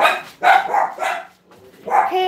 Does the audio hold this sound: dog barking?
yes